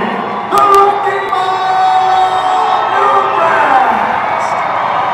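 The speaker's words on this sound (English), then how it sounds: "Jess has got a lot of people cheering for him here tonight" A crowd at a mixed martial arts event cheers for a fighter, a sustained loud roar with whoops and shrill whistles, steady throughout and mixed with voices.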